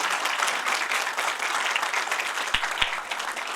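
Audience applause at an International Women's Day celebration with a women's poetry forum, dense steady clapping throughout, moderately distant, with a couple of low thumps near the end.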